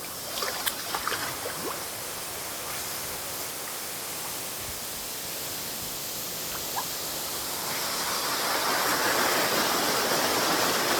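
Fresh, cold spring water pours and flows steadily in a continuous broadband rush, close and fairly loud, swelling slightly toward the end with no voices.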